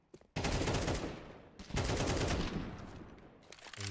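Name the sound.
AK rifle gunfire in a video game match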